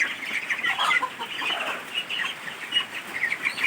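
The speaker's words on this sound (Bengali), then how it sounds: "এই হাঁসগুলো অনেক বড় হয়ে গেছে" A flock of large white and coloured ducks chatter close by, overlapping nasal calls and clucking quacks with some wing flutter, continuous and fairly loud without talk.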